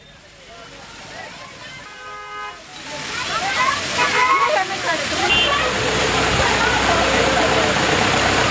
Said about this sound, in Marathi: पावसाळ्यात या भागात छोटे छोटे धबधबे तयार होतात